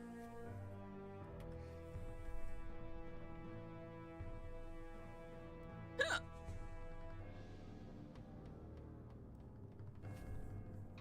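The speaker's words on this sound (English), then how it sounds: "I have like a few ways of like ideas how to stop my hiccups" Someone hiccups once during a quiet livestream, a short sharp gulp standing out against a faint steady background hum.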